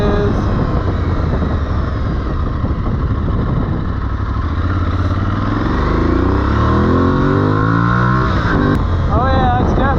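An Aprilia Tuareg 660 motorcycle engine drones loud and close throughout, rising in pitch as it revs toward high RPM, with wind rush under a rider's voice.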